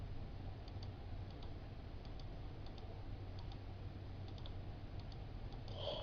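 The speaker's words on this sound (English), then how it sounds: "I'm going to push the letter X on my keyboard" Faint, sparse keyboard key clicks on a computer keyboard, single taps spaced irregularly over a steady low background hum, with no talking.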